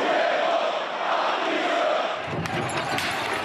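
Thousands of angry protesters crowd the street outside the Socialist Party headquarters in Spain on a second night of clashes with police, a dense, continuous roar of shouting voices with sharper cries breaking through near the end.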